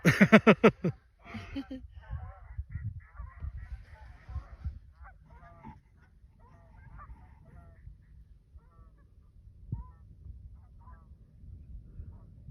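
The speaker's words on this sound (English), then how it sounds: "Those geese or what?" Geese honk in a loose chorus outdoors in northeast Arizona, a rapid burst of loud calls up front, then scattered quieter honks trailing off into the distance, with people talking faintly in between.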